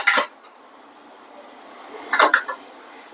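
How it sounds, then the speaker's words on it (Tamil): A spoon stirs and scrapes through a veg salad in a bowl, giving two short bursts of clinking and rustling, one at the start and one near the end, with quiet pauses in between. "கரண்டியில் கலக்கிறேங்க"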